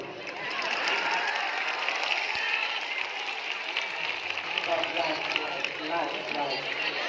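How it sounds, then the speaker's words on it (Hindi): Students and teachers in a Children's Day school assembly applaud loudly at the principal's prompt. The clapping is steady, dense and crowd-wide, with scattered cheering and voices mixed in. "और अपने नाम पर एक जोरदार ताली बजा दीजिए इस देश की रक्षा के लिए"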